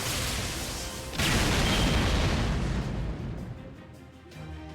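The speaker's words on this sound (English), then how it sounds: "That's a pretty loud explosion" A loud, rumbling explosion from the Fate/Grand Order video game, with a sharp boom bursting in early and a broad roar that slowly fades over several seconds.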